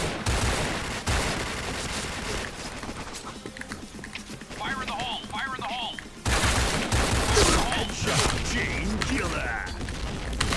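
An M1014 shotgun fires in rapid bursts in the video game Point Blank, loud repeated reports with mechanical clacks between them and chaotic game noise, while a voice talks over it.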